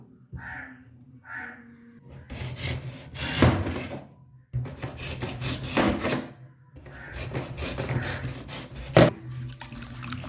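Knife sawing and scraping through a peeled rasavalli tuber into pieces, three long bursts of rough, rasping strokes with short pauses between, close up and with no talk.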